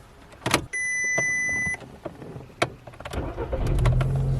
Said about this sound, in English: Here we need to restart our car.